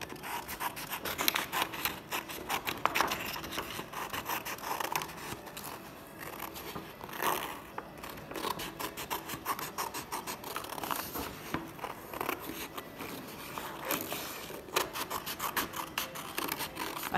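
Scissors cut paper for a 3D caterpillar craft, giving close, continuous snipping and rustling strokes with rough scraping texture throughout, no talking.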